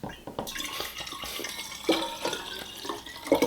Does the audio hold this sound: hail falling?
no